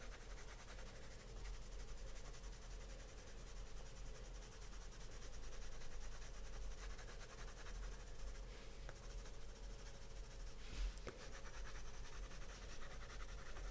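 A Polychromos colored pencil shades over paper in a soft, continuous scratchy hiss, steady and faint throughout, with a couple of slightly firmer strokes near the end.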